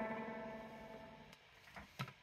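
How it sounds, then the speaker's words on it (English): A Marshall MG15R guitar amplifier plays sustained guitar tones through its reverb effect. The notes ring and slowly decay, and a few sharper plucked hits follow near the end. "you'll be able to add reverb."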